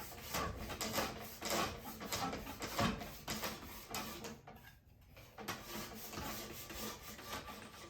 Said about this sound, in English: Cabinet scraper works good.